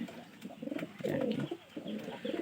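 Rajshahi Giribaz pigeons cooing up close, with several soft, throaty rolling coos in quick succession and faint chirps in between.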